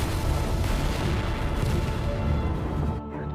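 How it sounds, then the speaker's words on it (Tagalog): Film explosion as an explosive device strapped to an arm is detonated, a heavy sustained booming roar with rumbling debris that cuts off abruptly near the end, no voices. "inactivate ni Nancy ang explosive device sa kanyang braso na ikinamatay"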